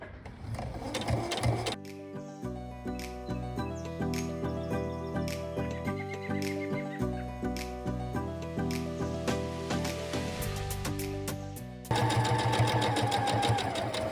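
A sewing machine runs steadily while stitching a fabric glasses case, with a backstitch to lock the seam before going all the way around, its motor hum loud and continuous with a short pause near the end.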